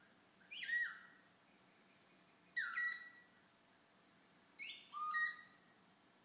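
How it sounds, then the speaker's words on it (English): A female vasa parrot sings from a high perch in a Madagascar baobab forest, giving three loud whistled phrases at steady intervals, each a rising burst with a sharp whistled ending, over a faint insect hum. "Choosing a high perch, she belts out her song across the baobab forest."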